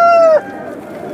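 Aseel rooster at a busy rooster market, a single loud crow-like call in the first third that breaks off abruptly, followed by quieter market background.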